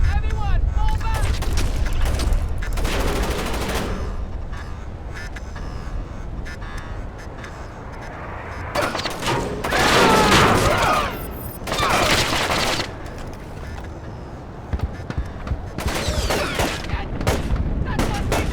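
Repeated bursts of gunfire and heavy shots ring out during a stealth-action shootout in Splinter Cell: Chaos Theory, loud and sustained with several dense volleys, mixed with shouting voices and game sound.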